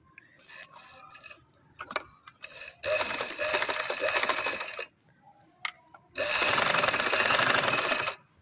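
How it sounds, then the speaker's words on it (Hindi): Sewing machine stitching a kurti neck collar: two long, loud, steady mechanical whirring runs of the needle, separated by short pauses with fabric handling and light clicks. "अब इसको बाहर की तरफ सिलाई लगाते हैं।"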